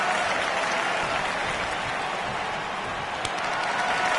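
Steady, dense applause and cheering from a pro wrestling arena crowd in Japan, a continuous roar of clapping filling the space without pause, loud and close, with one sharp clap standing out near the end.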